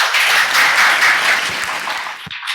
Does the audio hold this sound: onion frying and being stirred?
no